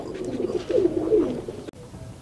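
A pair of Giribaz pigeons from a Palla line coo close by, a few soft throaty rolling calls in a low burst, ending with a sharp click, no talk.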